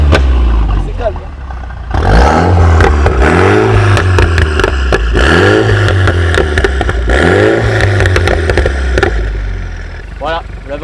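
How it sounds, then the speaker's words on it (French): Mini Cooper S F56 with a Ragazon valved exhaust in sport mode, revved hard several times in a row from behind the car, loud rising and falling engine sweeps with crackling pops between them. "vous l'avez entendu, le petit popcorn avec le mode sport, la ligne à clapet Ragazone qui fait bien son taf"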